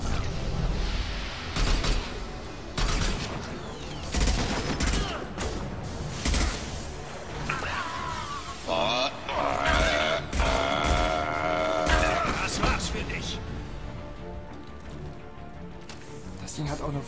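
Sustained volleys of rapid gunfire and booming shots from the Mass Effect 2 video game fight, with a voice talking over the dense, continuous shooting throughout.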